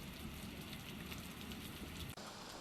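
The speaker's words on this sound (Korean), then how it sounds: "최근 중국 베이징시 폭우가 내려 피해가 났습니다." Heavy rain pouring down in Beijing, a dense steady hiss of falling water that stays constant and fairly faint throughout, with a brief dip near the end and no voices.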